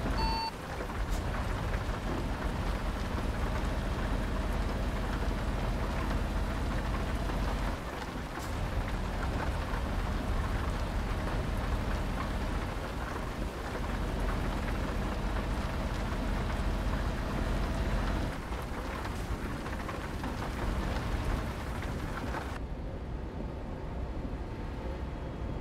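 Heavy rain pours continuously in Euro Truck Simulator, a thick steady wash of sound broken by deep rolling rumbles of thunder, with no talking throughout.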